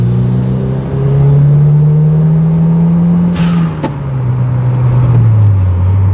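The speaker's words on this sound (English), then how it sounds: "I'd like to be taking these bendies more quickly because the Toyota MR2 is a complete go-kart" A 300-horsepower 1990s Toyota MR2 sports car accelerates on a winding road, its engine note rising steadily, dipping briefly at a gear change, then pulling again, loud and close throughout.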